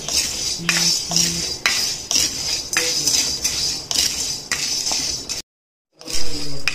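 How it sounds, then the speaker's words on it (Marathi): Nagkesar and cubeb spices dry-roasted together in a pan for homemade Bhandari garam masala, with rhythmic metallic scraping and clinking of a spatula against the pan at close range, briefly cut off near the end. "आता आपण नागकेशर आणि हे कबाब चिनी एकत्र भाजून घेत आहोत"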